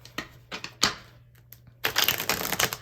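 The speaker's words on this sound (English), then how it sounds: "give these a couple good shuffles." Tarot cards being shuffled in the hands: a series of crisp riffling bursts with short pauses, ending in a longer, denser flurry of card flutter. The sound is close and fairly quiet, with no talking.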